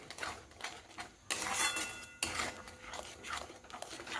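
A spoon scrapes and clinks against a pan while cauliflower and potato curry with poppy seed paste is stirred, the close, steady strokes rising to a denser burst of scraping midway, with no voices.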